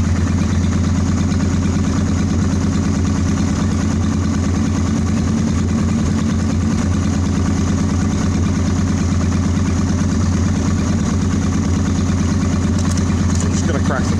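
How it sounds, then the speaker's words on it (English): A 2003 Honda Shadow Spirit 750 motorcycle idles steadily and smoothly after carburetor cleaning and synchronizing, a close, constant low engine rumble. "See how nice and smooth that idle is now?"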